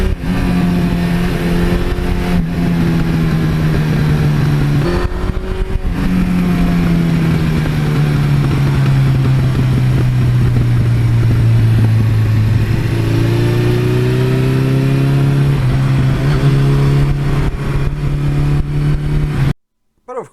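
A 1982 Suzuki GS1100E, the big four-cylinder bike nicknamed the Beast, idles and revs steadily up close, its engine note rising and falling loudly for about twenty seconds before cutting off abruptly.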